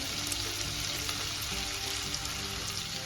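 Finely chopped carrot, capsicum, sweet corn and onion sauté in two spoons of hot oil for a white sauce pasta, giving a dense, continuous loud sizzle that holds steady throughout with no voices.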